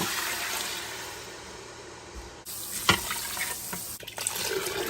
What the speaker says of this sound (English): I'm going to add 6 cups of water.